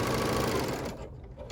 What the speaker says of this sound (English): So it's going to let the machine feed the fabric.